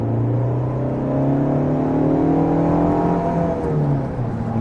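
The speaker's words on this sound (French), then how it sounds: "Là on est qu'à 2000 tours et elle monte très très fortement." A Fiat Barchetta roadster's engine pulls hard under acceleration from around 2000 rpm, a loud steady drone with rising and falling harmonic tones heard from inside the car.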